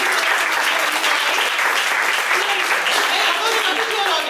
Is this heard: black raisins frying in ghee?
no